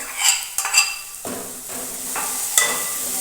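Onions fry with ginger-garlic paste in a pan, giving a moderate sizzle under several spoon strokes and metallic clinks against the pan.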